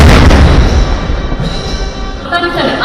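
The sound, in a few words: 21-gun artillery salute at Republic Day ceremony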